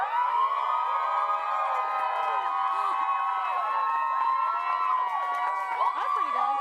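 A live crowd at a sports show cheers and shouts to vote for a Face Off contest winner, a dense sustained roar of voices and whoops holding steady throughout.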